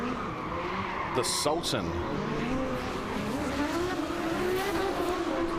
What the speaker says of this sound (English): in the Red and Harrison Performance S14 warming up the tyres as well